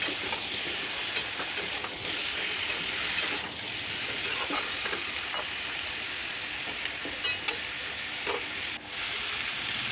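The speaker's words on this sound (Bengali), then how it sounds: "দিয়ে চিকেনটাকে আমি ভালো করে ভাজবো" Marinated chicken fries in a pan with a steady, loud, dense sizzle that continues without a break, with occasional faint stirring scrapes and no talk.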